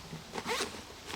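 A zipper on the top panel of an Oakley backpack being drawn open in one short, close, quiet pull, with no voices.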